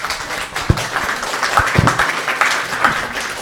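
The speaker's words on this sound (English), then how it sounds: "Big applause for Liv" Audience members at a technology training session clap, a moderate patter of applause with a few distinct individual claps standing out over the steady wash.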